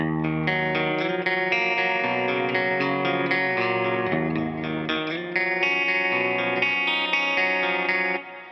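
Distorted electric guitar played through a Line 6 Pod XT Live with reverb plays a steady, chord-driven riff, thick with effects that fill the sound, continuous and loud before cutting off at the end.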